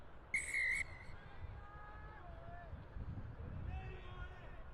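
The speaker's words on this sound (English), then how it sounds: "Whistle sound." A single sharp referee's whistle blast at a men's rugby match kickoff rings out briefly over a distant crowd murmur, followed by faint voices.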